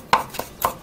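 Herbs are cut on a cutting board in three quick, crisp chops, close and distinct, with short gaps between them and no talking.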